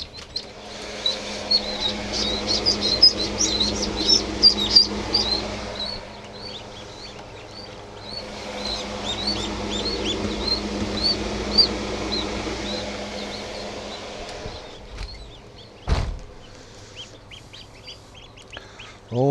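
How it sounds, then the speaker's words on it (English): Many small ducklings peep in high, rapid chirps, a busy chorus in two bursts with a brief pause, then a louder rustle near the end. "Ah, little ducks."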